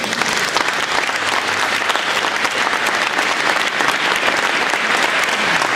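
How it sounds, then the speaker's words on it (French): Audience at the Utopiales 2011 award ceremony applauding, a dense, steady wash of clapping from many hands lasting throughout, close and full. "On les applaudit."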